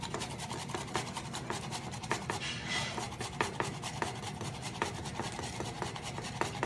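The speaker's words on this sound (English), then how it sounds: "As I grate this tomato, look at all of the beautiful flesh is grating through" A whole raw tomato with its skin on is rubbed against a food grater in steady, quiet, rasping strokes that repeat rhythmically, with no one speaking.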